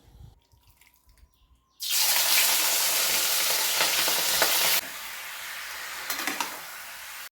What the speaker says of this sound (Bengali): নারকেলটা কুচি করে প্রথমে ভেজে নিতে হবে